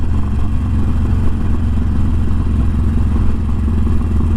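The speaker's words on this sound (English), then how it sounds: "We'll let off the throttle and listen to how it sounds." A tuned Harley-Davidson Forty Eight motorcycle coasts downhill with the throttle off, its engine giving a loud, steady, close-up lumpy rumble with a continuous burble throughout.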